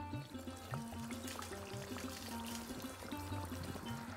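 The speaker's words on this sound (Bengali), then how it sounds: "এবার দিয়ে দেবো মশলা ধোয়া জল।" Spice-washed water pours into a hilsa curry in the pan, a continuous soft trickle and splash with small bubbling sounds, fairly faint and close, with no talking.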